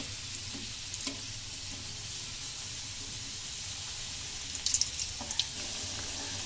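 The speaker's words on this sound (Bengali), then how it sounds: "আলুর সাথে হালকা একটু নুন হলুদ মাখিয়ে আমরা আলুটাকে একটু ভেজে নিব।" Potatoes coated in salt and turmeric frying in hot oil for a village-style chicken curry, a constant close hiss with a few soft clinks and turning scrapes near the end, no speech.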